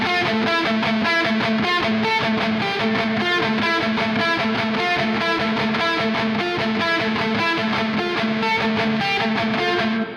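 Electric guitar played through a Toneforge Jeff Loomis amp simulator with a Shimmer effect: a loud, distorted, continuous riff with a layered synth-like shimmer wash behind it, alone without talk.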